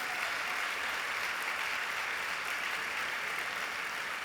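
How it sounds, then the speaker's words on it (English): Applause from an audience for the newest alumni Hall of Fame inductees, steady and continuous throughout, a dense even wash of clapping with no pauses. "let us bring some of the newest members of the Hall of Fame up for one more round of applause"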